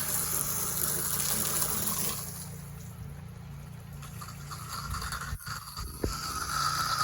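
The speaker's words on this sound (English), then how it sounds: "I'm just wetting down the windows." Garden hose spraying water against house windows during a house wash, a steady hissing rush that is stronger at first, then softens and sputters briefly, with small knocks near the end.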